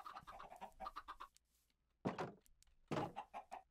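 Chickens in the video game Minecraft give a run of quick clucks, followed by two louder, separate squawks after a short pause, close and clear with no talking over them.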